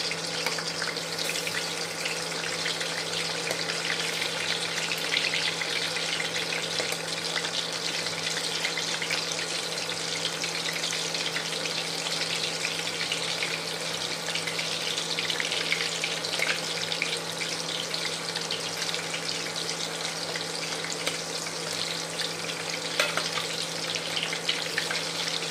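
Chicken pakora frying in hot oil in a home kitchen: a steady, even hiss and crackle that runs unbroken for the whole stretch, close up, with a faint low hum beneath and no voices.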